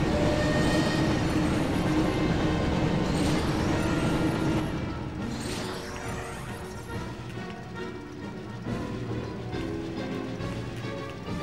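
A train rumbles and clatters through a Harry Potter and the Chamber of Secrets level on the PS1, a dense mechanical roar that starts loud and eases to a quieter steady rolling noise.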